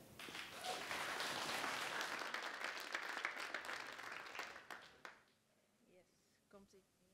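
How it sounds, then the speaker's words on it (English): A crowd at an open mic night of the FASHIONCLASH Festival 2021 applauds the brand Lip Concept: loud, dense clapping that swells for about five seconds, then cuts off abruptly into quiet with faint voices. "Please, a big round of applause for Lip Concept"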